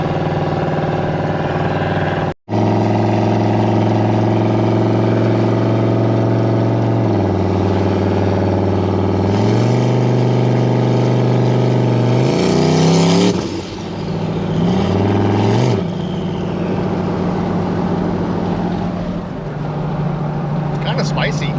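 A turbocharged Ford Sierra with about 10–11 pounds of boost accelerates hard, its loud close engine droning steadily, then climbing through revs with audible gear changes and a brief cut near the start.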